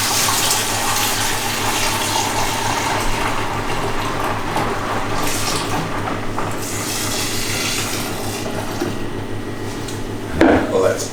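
Homebrewed pale ale wort, 3.5 litres, pours steadily into a Pinter, a continuous close splashing and trickling stream with a brief clunk near the end.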